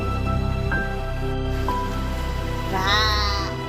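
A rescued kitten, nearly run over by a motorcycle, meows repeatedly, with a few short cries and then a longer rising, wavering meow, close and clear over a steady background hiss.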